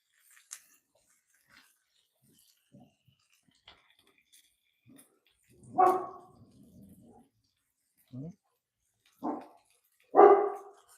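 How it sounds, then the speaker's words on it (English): A dog barks in short separate bursts over a quiet indoor room, with a few louder barks near the end and faint small noises between them. "Hey, no bark."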